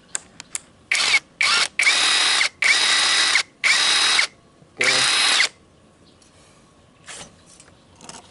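J.LD budget impact wrench, brand new with a fitted socket, fired in five or six loud close bursts of about a second each with short pauses between, then quiet with faint background noise.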